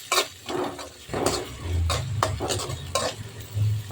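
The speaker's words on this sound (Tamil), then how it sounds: "இப்போ இதை நல்லா வதக்கிக்கலாம்" Onions and curry leaves sautéing with cumin and fennel in a pan for an okra side dish, a spatula scraping and tapping in irregular strokes over a low sizzle, no speech.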